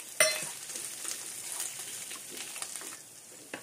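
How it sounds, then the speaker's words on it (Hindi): Mutton and chopped green chillies fry in a pan. A short clatter opens a soft, crackling sizzle that carries on close by and fairly quietly, with a few light scrapes and no speech. "अब हम इसे अच्छी तरीके से इसमें फ्राई करेंगे 1 मिनट के लिए"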